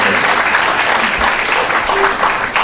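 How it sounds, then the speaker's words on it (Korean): An audience at a book concert in Busan breaks into loud, dense applause, a steady wash of many hands clapping for a few seconds. "박수 한번 보내주세요."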